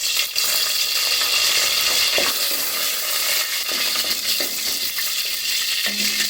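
Whole garam masala (two cinnamon pieces, three or four cardamom pods and two bay leaves) frying in oil gives a steady, close, loud sizzle, broken by a few faint clinks and stirring sounds, with no talking.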